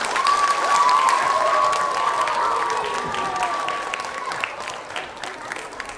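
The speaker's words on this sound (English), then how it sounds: "Let's give them a clap, please." A school audience of young pupils claps after the first round of a house general knowledge quiz, lively applause that starts strong and gradually thins, with a squealing microphone feedback tone over the first few seconds.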